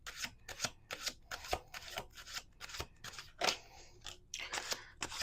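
A deck of tarot cards being shuffled by hand, a quick series of close, crisp riffling and slapping bursts that come in an irregular rhythm with no talking.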